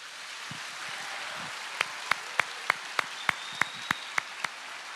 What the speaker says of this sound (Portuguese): E dê um aplauso para a sua família.